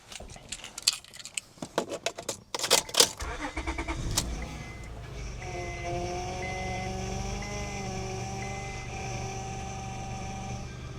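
Keys jingle and rattle close by, then a 2007 Honda Accord V6 cranks and settles into a steady idle, with the whine of a worn original power steering pump running underneath, loud and near.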